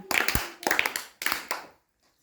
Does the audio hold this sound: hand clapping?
yes